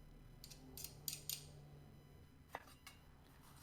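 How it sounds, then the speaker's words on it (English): Garlic cloves squeezed in a garlic press for a low-carb meatless curry: a few faint, short metallic clicks and crunches in a quiet kitchen, with a short pause between two clusters. "Press the garlic cloves."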